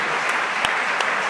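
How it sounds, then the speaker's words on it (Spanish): An audience at a panel discussion on electoral disinformation breaks into applause, a short, dense wash of clapping with a few sharper claps standing out. "Un aplauso bien fuerte"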